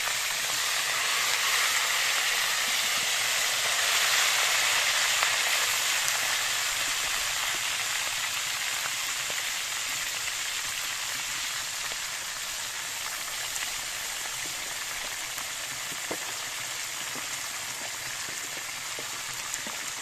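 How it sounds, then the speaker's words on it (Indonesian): Fish sizzles in a frying pan at an outdoor camp at Rawa Beunteur, Buniwangi, West Java, a dense, steady crackling hiss that carries on evenly without talk. "sekarang goreng ikan"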